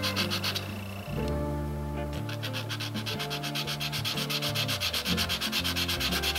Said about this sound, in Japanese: 今400番の目で削ってます。